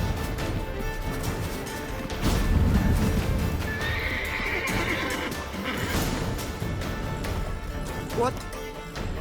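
A horse neighs and whinnies with clip-clopping hooves in The Witcher 3: Wild Hunt, the loud whinny rising over a busy game soundscape while voices speak nearby.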